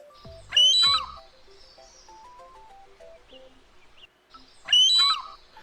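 A person's voice imitates an eagle call with two short, shrill, screeching whistles separated by a few seconds, close and loud, with quieter tonal voice sounds in between.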